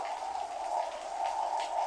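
Heavy rain falling outdoors, a steady hiss of moderate loudness that holds through the whole stretch, with a persistent mid-pitched tonal hum underneath.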